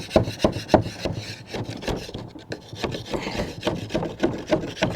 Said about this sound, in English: just take a scraper here and just kind of scrape all this old stuff off